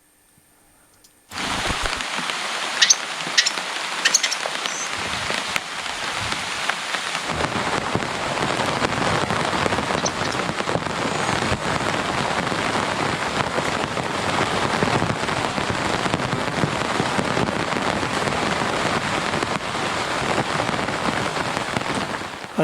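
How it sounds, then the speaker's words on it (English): Hard rain pours outside and hammers a surface in a thunderstorm, beginning abruptly after a moment of quiet and then holding as a loud, steady, continuous wash. "maybe because it's raining so hard outside"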